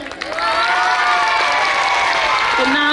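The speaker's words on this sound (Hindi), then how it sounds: "जोरदार तालियां मेरे लिए।" Audience applause at a school annual prize distribution, loud and sustained cheering and clapping from a crowd, with a voice rising over it near the end.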